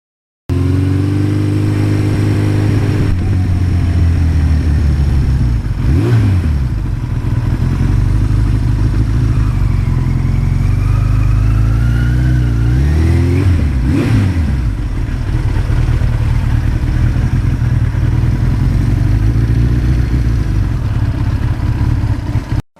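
A 1982 Suzuki GS1100E motorcycle rides through traffic, its engine droning loud and close throughout, with a few swells as it revs and shifts and a rising tonal whine near the middle.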